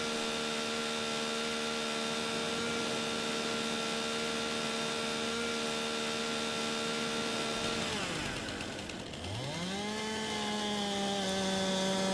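Chainsaw engine in Farming Simulator 19 cutting down trees, a steady buzzing whine that holds for about eight seconds, dips as the revs drop, then climbs back to a high sustained pitch, loud and close with no talk.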